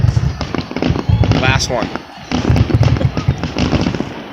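A Fall River fireworks display bursts with repeated booms and crackles while people nearby talk loudly over the explosions.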